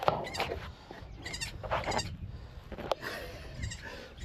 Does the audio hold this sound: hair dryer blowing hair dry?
no